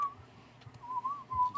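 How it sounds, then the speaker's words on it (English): A person whistles a short, wavering melody with a couple of brief pauses, close and clear against a quiet room with faint low background rumble. "We'll whistle."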